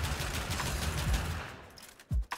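Rapid, dense firing of the Pyrana Prime shotgun pistol in the video game Warframe, a continuous crackling volley that fades out, followed by a couple of deeper thumps near the end.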